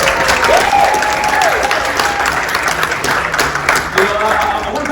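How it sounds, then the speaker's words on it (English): An audience at a leadership talk breaks into loud, close applause, a dense flurry of clapping that runs the full length, with a few voices cheering and calling out over it. "Let's give her a round of applause real quick."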